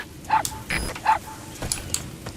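A dog in the video game Metal Gear Solid V gives a few short, close barks and yips in quick succession, mixed with brief game sounds.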